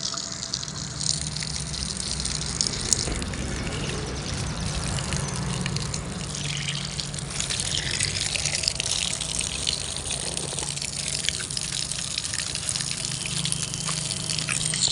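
Water gushes steadily from a village hand-pump tap set in front of a house, a continuous splashing rush running loud and close throughout with no talk.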